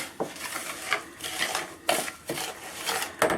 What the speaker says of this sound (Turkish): Şunları ben bir karıştırayım önce